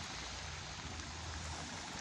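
Floodwater flows steadily during flooding in Central New York, a constant broadband rush of moving water heard alone at low level without any break.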